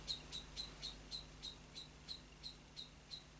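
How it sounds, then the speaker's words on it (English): A blackbird sings its evening song outdoors: a faint, distant, regular series of short high chirps repeating about three times a second over quiet background hum. "I'm just listening to the blackbird outside with his evening song."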